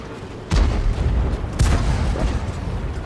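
Two heavy tank cannon booms from a video game, a Type 64 on the Overlord map, a deep blast followed by a second about a second later, with rumbling in between.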